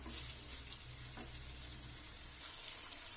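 Chicken in masala cooking on high flame for Bangalore donne biryani, a faint, steady hiss of sizzling with a couple of soft stirring sounds, quiet and without voices.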